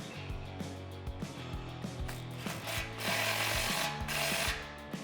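A ratchet tightens a clamp onto the single inlet pipe of a muffler from a Rough Country dual exhaust system on a 2011-2014 Ford F150 5.0L V8, giving a steady run of close, rhythmic clicking strokes.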